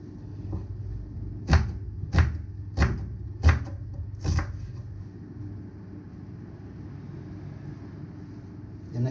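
An onion is chopped on a board with five sharp, evenly spaced knife strikes in quick succession, close and clear, followed by quiet background hum.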